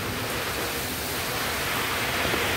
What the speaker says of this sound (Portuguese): Muita ventania nesse momento.